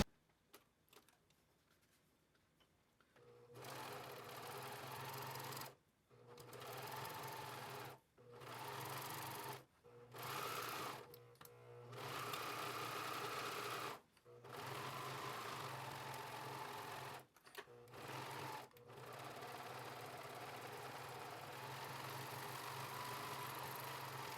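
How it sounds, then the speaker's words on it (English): A domestic sewing machine top stitching along fabric straps for a tank top and dress, running in several steady bursts of mechanical whirring and rapid needle chatter separated by short silent pauses, close and clear with no talk. "I'm going to top stitch along here"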